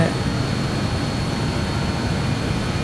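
Steady roar of the BAe 146-200's jet engines during takeoff in Microsoft Flight Simulator, a loud continuous broadband rumble and whine with no pauses.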